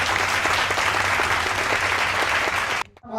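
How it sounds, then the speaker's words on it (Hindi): A crowd at a Hindi poetry recital claps in a loud, dense burst of applause that continues steadily before cutting off abruptly near the end. "इसके लिए एक बार जोरदार तालियां"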